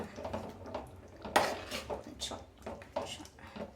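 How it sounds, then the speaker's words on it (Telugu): Cooked rajma kidney beans being mashed in a pan with a utensil for a rajma tomato curry, giving irregular scraping and clattering knocks against the metal, close and moderately loud. "కొంచెం థిక్గా కావాలి నాకు, అందుకని ఇలా నలుపుతున్నాను అనమాట రాజ్మాని."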